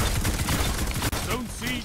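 Heavy, slow-firing gun in Destiny 2 letting off a few spaced shots amid game noise, sharp and close.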